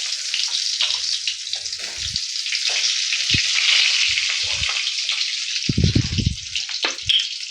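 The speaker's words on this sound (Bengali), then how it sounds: "আমি এবার এই বেগুনগুলো অল্প একটু ভেজে নেব।" Brinjal pieces fry in hot oil in a wok, a loud bright continuous sizzle close by, broken by occasional low knocks and clatters from stirring.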